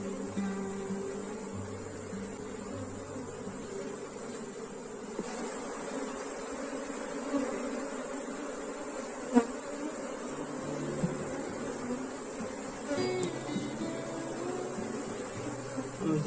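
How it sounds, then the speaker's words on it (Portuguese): A honeybee swarm in a hive box gives a steady, close, droning buzz throughout, with a few faint knocks and soft background sounds beneath it. "Até que tem um volume bom de abelhas, mas o enxame não desenvolve."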